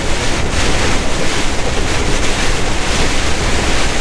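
Heavy rain and strong crosswind batter a moving truck on the road, a dense, steady roar of spray and wind buffeting that fills the whole clip without letting up.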